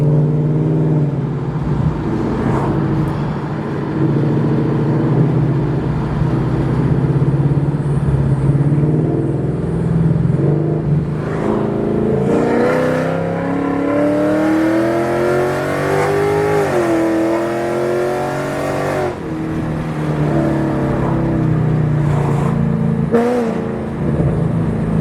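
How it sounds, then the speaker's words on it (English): A Ford Mustang GT fitted with aftermarket headers and exhaust idles with a deep, loud rumble, then revs several times, the pitch climbing and falling, heard close and without talk. "a review on the headers that I have and the exhaust as well."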